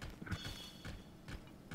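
Hooves clip-clop from a skeletal horse in the video game Zelda: Tears of the Kingdom, a few quiet, uneven hoofbeats mixed with soft mechanical creaks over a low game background.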